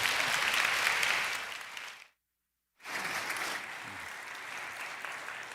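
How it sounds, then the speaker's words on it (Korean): Church congregation applauds a guest speaker in a sanctuary, a dense, steady burst of clapping that breaks off into silence for a moment, then resumes and carries on evenly. "박수로 우리 환영하겠습니다"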